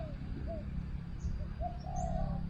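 Indian myna birds call in a garden with short whistles and chirps, moderately distant, over a steady low rumble of background noise.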